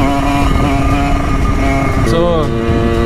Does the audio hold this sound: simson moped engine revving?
yes